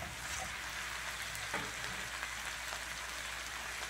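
Eggplant with meat cooks in a pan, giving a soft, steady sizzle and crackle close by with a few faint clicks, continuous and fairly quiet with no talk.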